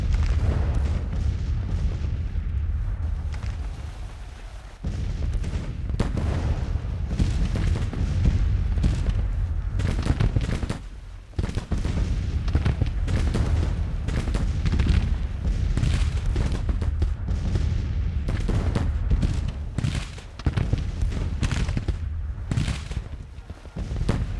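Artillery and gunfire in a Civil War strategy video game: continuous booming cannon blasts and crackling volleys of rifle fire, loud and sustained, with several sharp breaks in the barrage.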